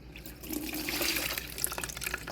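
Water pours steadily into a container, a continuous faint splashing and trickling close by with no talk.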